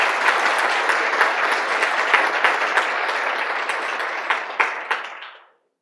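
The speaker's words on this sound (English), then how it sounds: "So let's just give them a round of applause" A conference keynote audience at DjangoCon US 2017 breaks into sustained applause, a close, dense round of clapping that thins and stops abruptly near the end.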